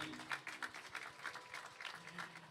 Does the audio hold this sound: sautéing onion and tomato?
no